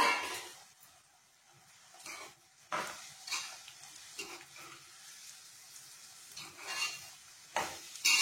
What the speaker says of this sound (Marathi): आता आपण यात पोहे टाकायचे।